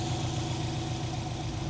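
A Subaru WRX STI engine idles with a steady, even low rumble, close and continuous with no other sounds.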